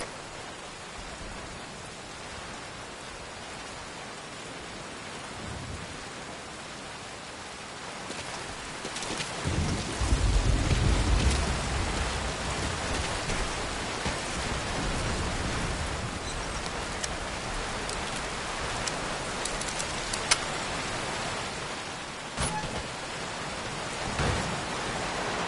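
Steady rain pours in the Metal Gear Solid video game, a dense continuous hiss, with a deep rumble of thunder swelling midway before the downpour carries on alone.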